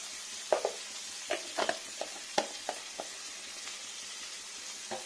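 Panch phoron spices frying in hot oil in a pan for a katla fish curry, with a steady soft sizzle and a few scattered louder crackles and stirring knocks, close up and without talk.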